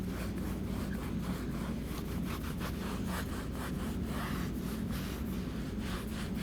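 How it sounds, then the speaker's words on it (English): A sponge works blue cleaner into a rubber car floor mat, giving a steady, close scrubbing and rubbing sound with repeated back-and-forth strokes and no talking. "we're just going to throw a little bit on this sponge and then work it into the surface"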